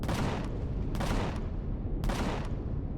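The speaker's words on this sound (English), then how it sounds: "So we're gonna have to try and take these guys down with weapons." Rapid bursts of weapon fire aimed at attacking ships in the space survival game Empyrion Galactic Survival, loud and continuous with three sharp blasts standing out over a dense rumbling barrage, no voice.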